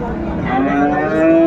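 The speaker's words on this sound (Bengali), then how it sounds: "এই যে সেই মার্ভেলাস দুটি ষাঁড় ও অসাধারণ দুটি ষাঁড়ই অসাধারণ গরু" A Sahiwal bull at a cattle market lets out one loud, close, sustained moo that rises slightly in pitch and fills the brief moment.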